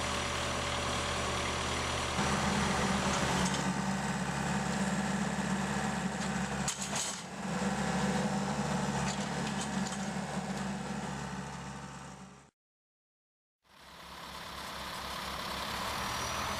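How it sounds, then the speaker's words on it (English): A log loader or front-end loader working at a Cord King firewood processor's live deck, a loud steady diesel engine drone with a deeper rumble midway, a brief clunk, then a cut to silence before the engine resumes. "Loading the rugged live deck on a Cord King is simply done using a log or front-end loader."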